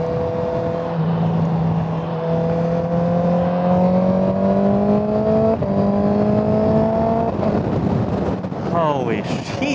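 A motorcycle is ridden on the road with its engine climbing steadily in pitch as it accelerates, loud and close under heavy wind rush, with voices talking over the ride.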